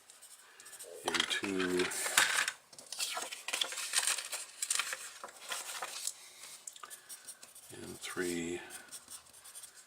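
Pen scratching notes onto paper in short bursts, close and soft, with a person talking throughout and a few light clinks in between.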